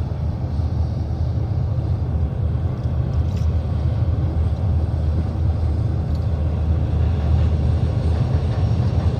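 A train rolling across a railway bridge, a continuous heavy low rumble and roar that holds steady throughout, loud and close without any voices.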